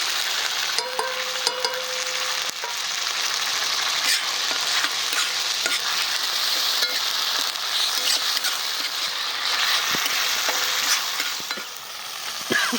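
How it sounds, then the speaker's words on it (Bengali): An onion, garlic and ginger masala with salt, turmeric and Kashmiri and dried chili powders frying in a pan gives a steady close sizzle, with stirring scrapes and small pops running throughout, no voices. "মশলাটা আমাদের কষানো কমপ্লিট হয়ে গেছে"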